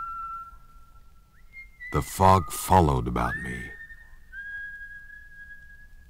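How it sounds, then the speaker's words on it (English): A steady, sustained whistle runs through a radio drama scene set in the dark, first lower and then higher, while someone speaks briefly over the middle of it. "I could still hear the whistle on my back sweeping in the dark."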